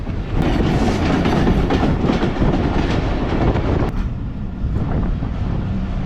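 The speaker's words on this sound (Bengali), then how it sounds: "সামনে আরেকটা ট্রেন আসতেছে।" A commuter train rumbles past on the tracks, a loud, steady roar with rattling wheels that eases off slightly near the end.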